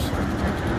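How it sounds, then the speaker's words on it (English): The Shockwave roller coaster train running along its track, a continuous close rumble with steady clatter and no pauses through the brief moment. "let's have a look at this train as it goes around the track here"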